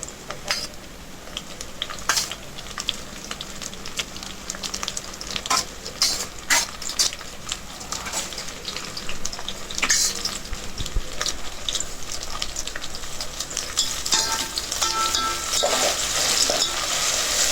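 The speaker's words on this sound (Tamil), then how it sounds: "இப்போ நல்லா கலந்து விட்டுருங்க." Onions frying in a pan with green chilli, mint and coriander being stirred together, a steady soft sizzle with scraping and clinks of a spoon against the pot, fairly close and without talk.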